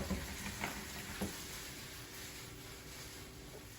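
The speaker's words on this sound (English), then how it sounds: "We're just going to saute these a little bit, get them going, get that juices flowing and aroma going" Chicken pieces sautéing in a hot pan give off a soft, steady sizzle with a few faint clinks, fairly quiet and with no voices.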